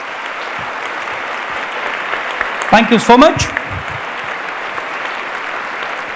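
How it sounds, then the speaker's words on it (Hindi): At an inaugural academic event with the Governor of Bihar, the audience claps for a welcomed guest in a short burst that swells and fades, while a person on a microphone speaks over it. "एक बार जोरदार तालियां होनी चाहिए।"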